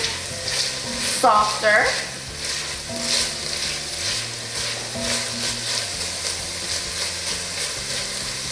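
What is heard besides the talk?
onions sautéing in a pot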